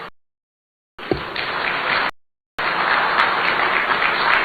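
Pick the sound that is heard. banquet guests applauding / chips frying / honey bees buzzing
banquet guests applauding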